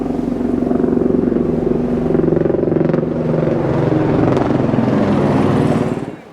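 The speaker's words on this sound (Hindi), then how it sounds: "हेलीकॉप्टर आता हुआ।" A steady, loud mechanical drone with rhythmic chopping throb continues throughout, a helicopter nearby on the Amarnath trek route, fading slightly at the end.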